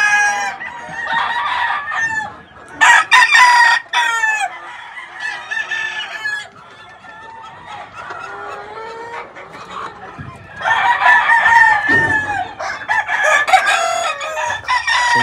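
Roosters crow loudly and repeatedly near the listener while hens cluck around them in a farmyard flock of crested chickens.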